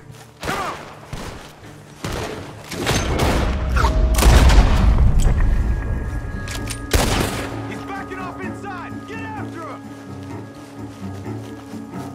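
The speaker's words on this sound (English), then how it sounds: "Gunshots are coming from that bomb!" Gunfire and explosive booms in a Red Dead Redemption 2 fight: a dense burst of loud shots and heavy thuds builds to a peak, then a sharp blast, followed by a quieter stretch with scattered tones and faint calls.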